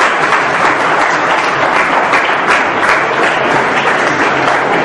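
An audience at a school talk in a hall claps in a dense, loud, sustained burst, a continuous roar of hands with no voices rising above it.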